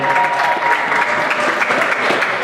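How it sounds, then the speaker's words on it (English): Crowd at a short-track stock car speedway applauds a driver from Sanford, Maine during pre-race introductions, a steady, loud, dense wash of clapping that fills the whole stretch with no talk over it. "Nice round of applause for Sanford, Maine driver Jacob Dorr"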